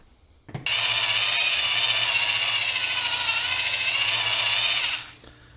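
A power tool works metal during the restoration of a 1972 Suburban, giving a loud, close, steady high whir for about four seconds before winding down, with a faint knock at the start.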